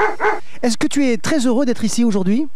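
A village dog gives short yips and whimpering barks up close, taking turns with a voice asking it questions.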